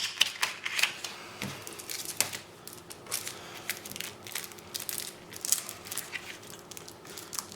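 A trading card is worked free of its plastic package, giving a run of close, crisp crinkles, crunches and small clicking snaps in uneven bursts with no one speaking.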